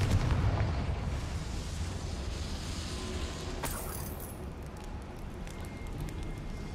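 A Confringo explosion spell goes off in Hogwarts Legacy, a sudden fiery burst with a sharp crack in the middle, surrounded by rumbling game ambience.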